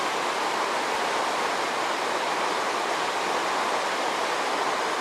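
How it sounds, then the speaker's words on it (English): A swollen river roars and rushes beside a hiking trail, a loud, steady wash of churning water that fills the whole stretch without a break and with no voices over it. "This river is going nuts."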